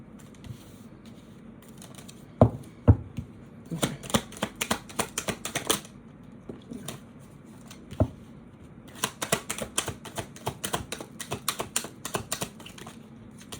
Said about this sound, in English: hit that like button for me while I'm shuffling these cards for you